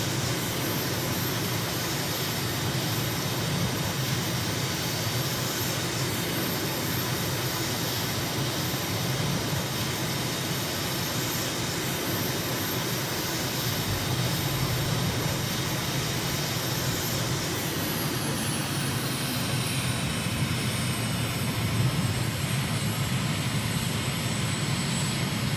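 A simulated aircraft engine drones steadily in flight on a recon flight over Damascus, Syria, in Microsoft's flight simulator. The engine noise is loud, continuous and even throughout, with no talking.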